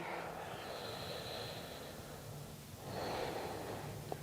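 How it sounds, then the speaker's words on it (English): Deep, slow breathing during a post-abdominal-surgery yoga session, faint and close, with a long breath followed by another rising exhale near the end. "Really breathing deeply"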